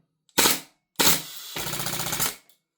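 An airsoft Glock fitted with an HPA shot-shell adapter fires sharply up close: two quick separate bursts, then a rapid full-auto rattle lasting nearly a second, with no voices.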